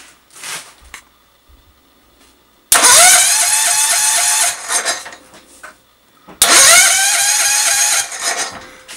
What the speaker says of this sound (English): Starter kicks forward, the gears engage, and it works.